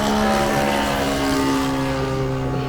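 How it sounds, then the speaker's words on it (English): A model airplane flies past near a parked van by a model airfield, its loud, close propeller engine giving a steady buzzing drone that fades slightly as it moves away. "we are actually parked right by an airfield for model airplanes, and currently there is one flying right now, right past our"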